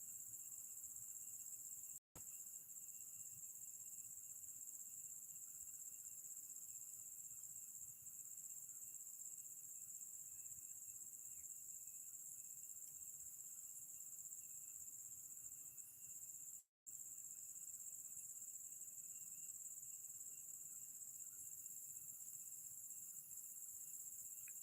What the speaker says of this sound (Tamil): இந்த பூச்சி சவுண்டெல்லாம் வேறு கேட்டுட்டு தான் இருக்கும் லைவில்